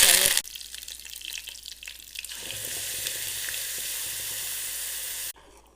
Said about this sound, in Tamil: இப்போ வந்து நம்ம இதை தாளிக்கலாம்